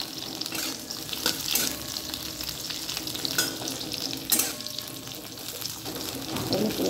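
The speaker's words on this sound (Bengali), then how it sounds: "চলো আগে করলাগুলো ভেজে নিই" Bitter gourd pieces fry in a pan in a close, steady sizzle, with scraping stirs and occasional louder crackling bursts throughout.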